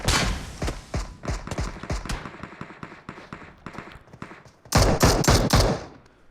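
Rapid gunfire bursts crackle through a PUBG Mobile custom-room match, dense and repetitive for several seconds, then a louder, sharper volley erupts near the end.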